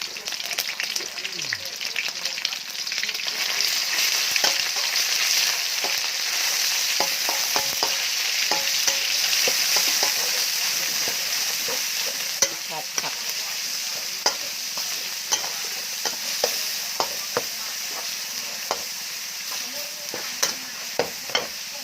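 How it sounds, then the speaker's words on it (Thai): Mustard greens with minced pork and glass noodles being stir-fried in a pan, giving a steady sizzle with frequent scraping clicks of the spatula throughout, close and fairly loud. "ใส่ผักกาด ผัดผักนะคะ วันนี้เราผัดผัก ตอนนี้เราใส่หมูไปนะคะ"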